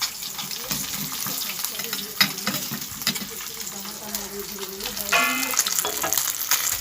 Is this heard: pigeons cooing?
no